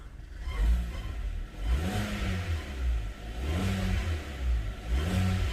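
A Kia Sorento engine making noise when wet, heard close up in repeated surging rises and falls of a mid-pitched motor, swelling roughly every second and a half with no talk.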